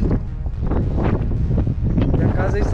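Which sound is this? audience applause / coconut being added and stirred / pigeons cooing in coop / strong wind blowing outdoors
strong wind blowing outdoors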